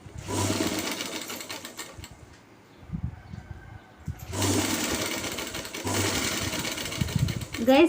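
A sewing machine stitches a pant belt piece in two long, fast, even runs of needle chatter, separated by a quieter pause with light handling of the fabric.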